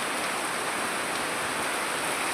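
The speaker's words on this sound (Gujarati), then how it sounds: "વરસાદ જોરદાર છે" Heavy rain pours down steadily in Dahod district, a dense, continuous hiss of downpour with no talk, close and even throughout.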